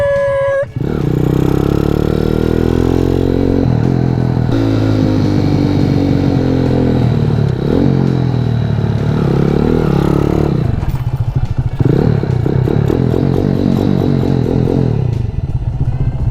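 A carbureted 2023 Boss Vader Grom-clone motorcycle is ridden, its small engine droning loudly and steadily with rising and falling revs and a brief break near the end, wind and rattles mixed in.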